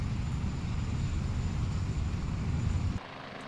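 Low, steady rotor and engine rumble of a helicopter flying low in the military video game Arma 2, loud and continuous before dropping off sharply near the end.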